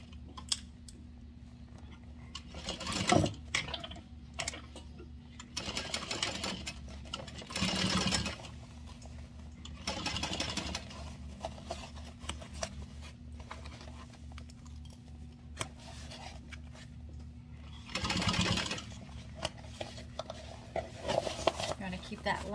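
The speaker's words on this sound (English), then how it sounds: "We're going to sew this together with a 1/4 inch seam." A sewing machine joins fabric with a quarter-inch seam while a sling bag is being made. It runs in several short bursts of fast stitching separated by pauses with light handling sounds, and it is close and clear.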